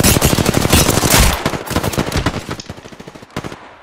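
Rapid, loud bursts of automatic gunfire in Apex Legends, a sustained stream of shots that thins into scattered rounds before stopping, with a game-like sound.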